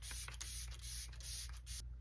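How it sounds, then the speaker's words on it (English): Fix Plus makeup setting spray hisses from a pump bottle in several quick close bursts of fine mist, each spray short and crisp over a low steady hum, with no talking. "Now here, I'm going to do a little bit more setting spray, Fix Plus."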